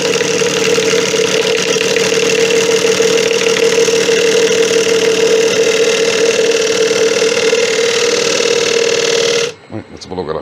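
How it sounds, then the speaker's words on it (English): A wood lathe turns a punky bowl while a freshly sharpened ball gouge makes the finishing cuts, producing a loud, steady droning hum with a sustained tone that cuts off abruptly near the end. "I freshly sharpened the ball gouge, and now I'm gonna start cutting"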